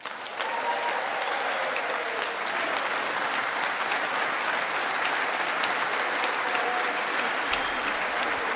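Sustained audience applause during a State of the Union address, a large room of many people clapping in a dense, even roar that holds at full strength for several seconds.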